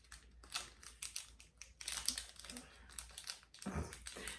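A packet of small Japanese sweets being torn open, its plastic wrapper crinkling and rustling in close, irregular bursts, with a few soft handling knocks and a brief low thump near the end.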